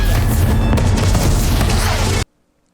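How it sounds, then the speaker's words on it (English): An animated fireworks show booms in a dense, loud, continuous roar of overlapping blasts that cuts off abruptly into silence after about two seconds. "she made her own fireworks show"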